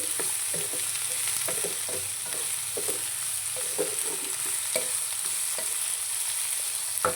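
Ivy gourd (dondakaya) fries quietly on low flame, giving a soft, steady sizzle with regular stirring scrapes in a close, even rhythm.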